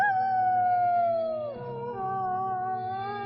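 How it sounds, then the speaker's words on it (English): A lone wolf howls on the open prairie at night: one long, loud, drawn-out cry sliding slowly downward, then a second lower, steadier howl, close and alone. "The big wolf lifted his nose to the sky and howled."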